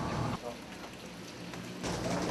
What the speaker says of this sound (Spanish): Falta que pare de llover, nada más.